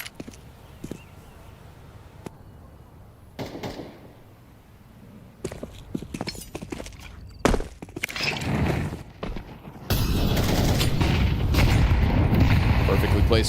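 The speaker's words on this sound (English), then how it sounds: "Perfectly placed grenade." A grenade explosion during a Counter-Strike esports match at PGL Cluj-Napoca sounds as a sudden loud boom amid sporadic gunfire and game effects, followed by a sustained roar of crowd or game noise, with commentary talking over it.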